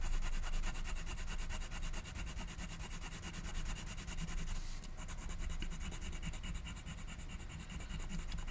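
Warm grey 2 coloured pencil blending over a drawing of husky fur on paper, a steady close scratchy rubbing that continues without pause throughout.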